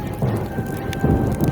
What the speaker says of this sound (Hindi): एस्गार्ड में बिजली कड़कने लगी।